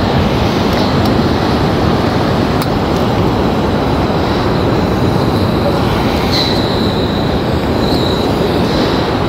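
Soto Windmaster backpacking stove burner roaring at full output, a steady loud broadband rush that continues unbroken throughout without any talk.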